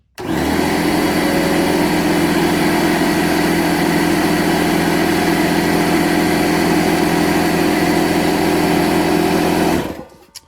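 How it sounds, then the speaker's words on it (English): A DeWalt air compressor runs close and loud as a steady, even motor drone with a high whine for about ten seconds, then cuts off. "we'll turn the DeWalt on and let's hear what that one sounds like"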